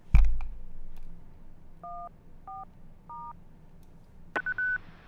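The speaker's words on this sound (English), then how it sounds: "You will be hearing a different repeater beep in the background there." Repeater beep tones on a 70 centimeter amateur radio repeater at 448.625, heard as a series of short two-tone beeps, then a longer, louder tone burst near the end. Faint radio hiss sits underneath, with no talking.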